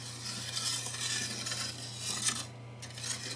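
A spatula stirs brown and granulated sugar with water in a pan, making faint soft scraping and light clinks over a steady low hum.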